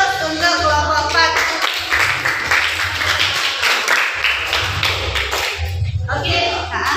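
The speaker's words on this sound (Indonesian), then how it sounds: "Kita beri aplaus untuk kelompok 4." Classroom applause for a student group after their presentation, steady clapping from many hands over about seven seconds with brief dips, mixed with voices and low thumps.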